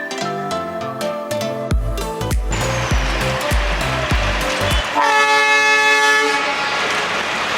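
The Darjeeling toy train at Batasia Loop sounds its horn in repeated toots, followed by chugging bursts and a sustained horn blast, loud and close over outdoor ambience.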